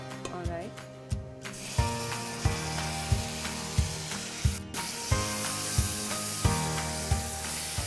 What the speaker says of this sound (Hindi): अब श्रद्धा, अनियन जो है ब्राउन होने लगा है, अब मैं जो है इसमें टमाटर यूज करता हूँ।